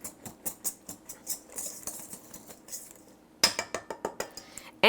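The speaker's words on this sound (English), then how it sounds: "I'm just gonna add that in and also give that a little whisk in" A whisk beats brown sugar into vegan, gluten-free chocolate chip cookie batter in a bowl, making quick rhythmic clinks and scrapes. The strokes are close and fairly soft, with no one speaking.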